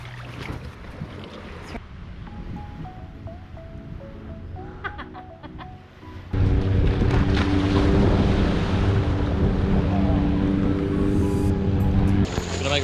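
A boat being hauled in onto a small beach in Krabi, Thailand, with a steady broadband scrape and rush that swells loudly about halfway through, carrying over wind and water noise with no talk.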